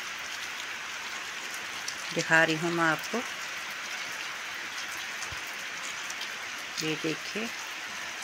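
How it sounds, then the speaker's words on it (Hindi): Heavy rain pours steadily outdoors near a car, a continuous even hiss that runs under the whole stretch while someone speaks briefly twice. "अभी बारिश बढ़ने लगी है और तेज हो गई है बारिश"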